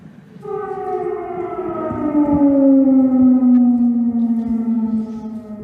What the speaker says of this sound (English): Air raid sirens have sounded in Kiev minutes before a blast was heard